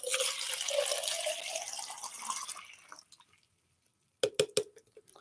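Water poured into a cup fills it with a steady rushing splash that gradually thins and stops, followed after a pause by a few close clinks and drips.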